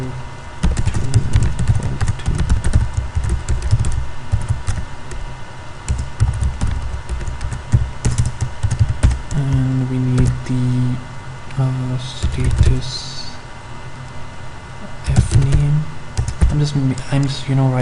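Code being typed on a computer keyboard, with steady rapid key clatter and occasional sharper key strikes, close and continuous, while a person speaks at times over the typing.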